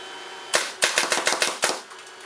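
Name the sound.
Azodin Blitz reball marker firing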